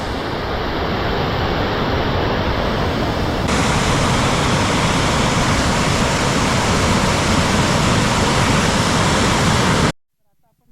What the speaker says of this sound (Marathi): हा फक्त आपण वरून पाणी पडतो आहे तिथे आहोत